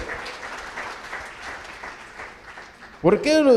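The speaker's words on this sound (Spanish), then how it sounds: "Denle un aplauso al Señor" Church congregation applauding during a Spanish-language Christian sermon, a steady wash of clapping under the preacher's voice, with a brief burst of singing or shouting near the end.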